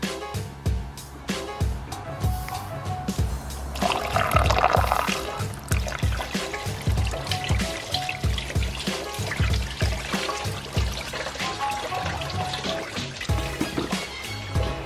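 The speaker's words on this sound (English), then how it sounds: "as I'm filling this coolant up with the distilled water, or the cooling system with the distilled water" Distilled water is poured into a BMW E46 323ci cooling system with the bleed screw open, a continuous close trickling and gurgling of liquid with small splashes and knocks throughout.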